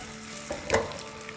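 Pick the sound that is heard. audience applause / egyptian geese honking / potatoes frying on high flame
potatoes frying on high flame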